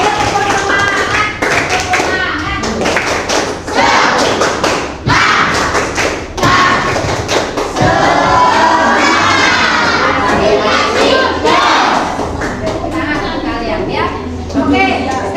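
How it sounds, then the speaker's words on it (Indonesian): Schoolchildren in a junior high classroom burst into loud, rhythmic clapping and shouting, a dense burst of claps and thumps filling the room as a teacher's voice joins in. "Saya beri tepuk tangan untuk kalian."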